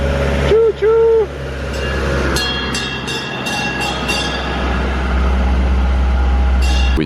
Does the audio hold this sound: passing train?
yes